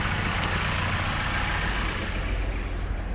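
A 2020 Dodge Journey engine idling smoothly after new spark plugs, a steady even rumble close by with no other sounds over it.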